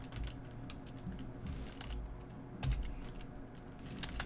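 Someone typing an SQL query on a computer keyboard, a steady patter of close, light key clicks with a few heavier strokes, no talking.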